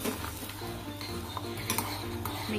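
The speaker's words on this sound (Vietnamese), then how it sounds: "Và đến khi này thì mình mới dùng muỗng mình khuấy" A spoon stirring caramel in a pan while making coffee flan, soft continuous scraping with faint metallic clinks, close up over a steady kitchen hum.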